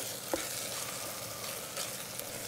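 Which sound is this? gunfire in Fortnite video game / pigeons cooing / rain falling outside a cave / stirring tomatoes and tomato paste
stirring tomatoes and tomato paste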